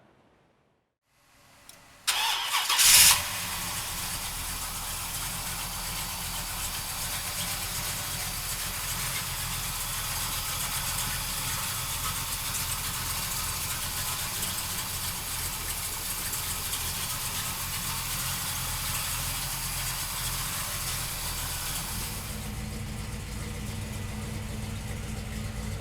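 A 1972 Chevrolet Chevelle with a GM Performance 502 engine cranks and fires up with a loud roar, then settles into a steady, deep, rumbling idle that runs on for over twenty seconds without talk.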